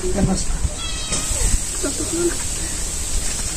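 A house cat gives a few short meows amid a busy home kitchen, with people talking over it and a steady high whine in the background.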